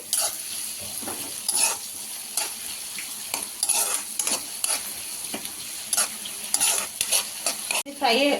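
Egg masala for kodi guddu velluli karam crisping in a pan, a loud continuous sizzle broken by repeated scraping stirs, with a brief clatter at the very end.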